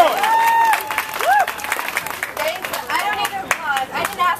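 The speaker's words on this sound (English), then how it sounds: "So we should all give her a big round of applause and say thank you." Applause and cheering from a crowd at a street protest rally, a brisk burst of clapping mixed with voices and shouts, loud and close.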